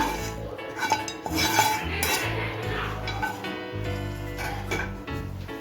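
A spoon scrapes and clinks against a pan while semolina laddu mixture with cardamom powder is mixed, giving an uneven run of metallic rubbing and tapping sounds close by.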